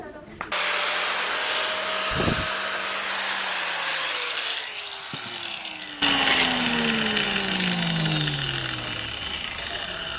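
A power tool whirs while polishing the trigger of a homemade slingshot, a steady grinding drone with brief sharp contacts, growing louder and rougher partway through.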